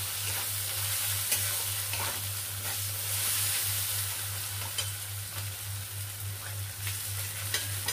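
Kashmiri chilli powder frying in a hot pan while being stirred, producing a steady, moderately quiet sizzle with occasional scraping clicks over a constant low electrical hum.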